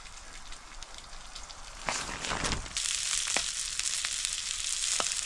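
Ham steaks and cheesy eggs sizzle in a pan on a wood stove inside a hot tent during a snowstorm, a steady crackling fry with a few sharp pops and a louder burst midway.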